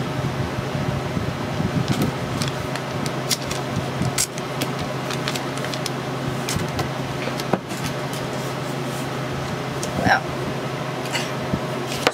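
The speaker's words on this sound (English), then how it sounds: "I have the air conditioner on in my studio because it's hot." An air conditioner in a craft studio runs with a steady, loud low hum and airy hiss throughout, while scattered clicks and handling noises from work at a table sound over it.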